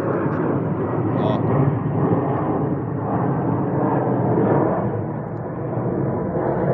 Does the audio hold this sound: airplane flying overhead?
yes